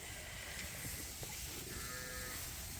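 Sheep bleating in a barn, a few ewes calling softly from a distance over a constant background hiss.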